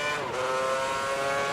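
Formula 1 race car in F1 2010 racing game: a loud, high-pitched engine scream, pitch sliding as revs change, sustained and close.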